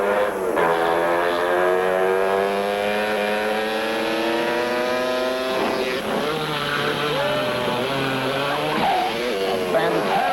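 A propeller airplane on its takeoff run at an airshow-style event, engine droning loud and steady with rising, sweeping pitch, then shifting tone as it climbs away; voices are faintly mixed in underneath.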